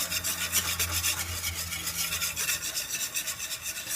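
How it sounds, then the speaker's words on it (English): Homemade gravy stirred in a pan on a stovetop burner turned down to low, giving a steady, close scraping and rubbing with fast repeated strokes and no voices. "Keep stirring and make sure it gets all incorporated."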